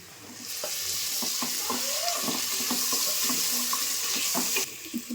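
Soaked meal maker soya chunks are squeezed by hand, releasing water in a steady close trickle with soft squelches and drips, ending with a few louder wet splats.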